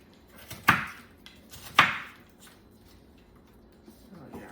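Two crisp knife chops through carrots and whole sugar snap peas on a cutting board, about a second apart, close and fairly loud, with quiet kitchen room tone between them.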